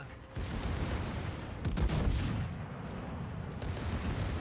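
Heavy naval guns boom in a warship video game, a rolling barrage of loud overlapping artillery blasts with deep rumbling tails, close and sustained throughout.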